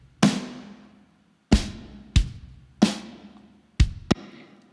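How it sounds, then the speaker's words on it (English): A real recorded snare drum from a rock mix is hit six times in an uneven pattern, each crack sharp and bright with a short ringing tail, close and isolated. "the actual snare drum, which sounds like this"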